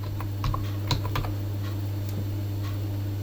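Fingers tapping out a location on a computer keyboard, a short burst of light keystrokes near the start, then quiet over a steady low electrical hum.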